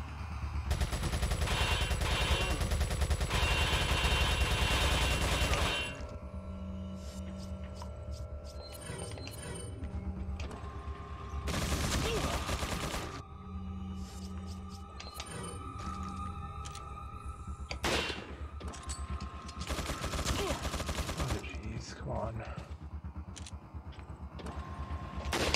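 Enemy gunfire in Resident Evil 4: sustained bursts of shots crackle loudly, with dense rapid volleys early on, then intermittent sharp reports and clanks over game ambience.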